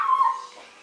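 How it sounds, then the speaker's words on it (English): A young puppy whimpers in a thin, high, wavering whine that fades over under a second, close and alone. "That's a little girl puppy."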